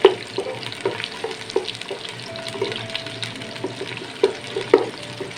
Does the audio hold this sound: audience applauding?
no